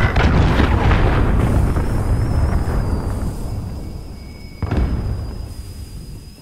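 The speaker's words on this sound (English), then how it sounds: "Enemy cruise missile incoming!" A cruise missile detonates in Call of Duty Modern Warfare during a Search and Destroy round at Cheshire Park: a loud, sustained rumbling blast fading over several seconds, then a second sharp boom that trails off, with a thin high tone running throughout.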